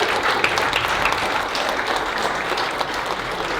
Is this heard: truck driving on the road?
no